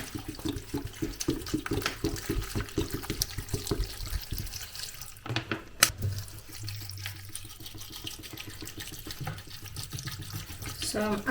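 Tap water runs steadily into a saucepan on a domestic kitchen stove, a continuous splashing stream with a brief louder burst midway.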